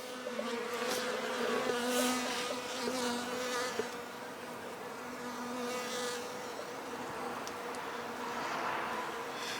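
Honey bees streaming out of a backyard hive in winter, a dense continuous buzzing drone with individual bees whirring past close by, steady throughout with no talking.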